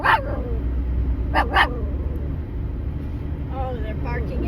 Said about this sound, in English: Oh, they're barking at the cows.